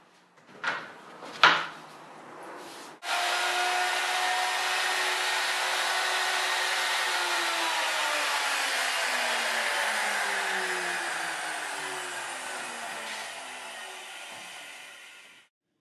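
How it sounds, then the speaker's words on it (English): A router trims the back side of a countertop along routing fixtures, shaping the base and sink mounting area: a few brief knocks, then a steady high whine running alone that slowly falls in pitch and fades out. "the routing fixtures are put on the back side of the countertop to trim the base and mounting area for the sink."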